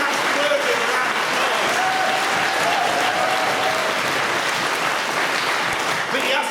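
Sustained applause from a political rally crowd fills the whole stretch, dense and steady clapping with a few voices rising underneath.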